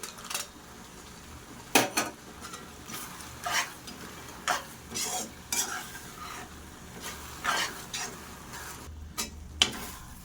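Cashews frying in ghee for semiya kesari, a low sizzle under repeated scraping strokes of a spoon against the pan at an irregular pace, close up with no talk.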